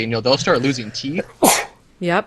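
A single sharp sneeze bursts out between stretches of conversation during a podcast about having healthy children, with voices talking before and right after it.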